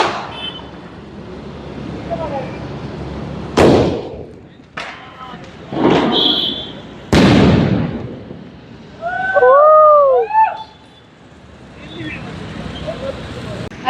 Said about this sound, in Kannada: ಗೈಸ್ ಅಲ್ಲಿ ಯಾರು ಬಾಂಬ್ ಬಿಡ್ತಾ ಇದ್ದಾರೆ